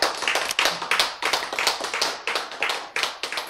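A church congregation claps in unison during a Bible sermon, a quick rhythmic run of many hands hitting together in a steady beat that stays loud and close throughout, with no talk over it.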